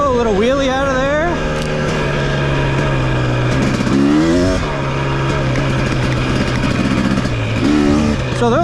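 A 2023 KTM 250 XC two-stroke dirt bike revs hard and climbs in pitch as the front lifts into a wheelie on sandy berms, loud and close, with a rider's voice over the engine.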